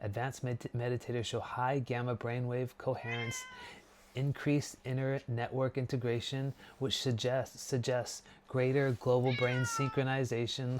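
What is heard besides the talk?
cat meowing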